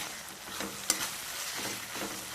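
Masala frying in a pan, with a quiet, steady sizzle, faint stirring and one brief sharp clink near the start.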